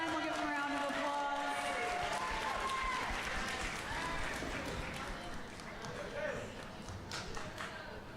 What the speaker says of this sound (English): One more time, we'll give them a round of applause.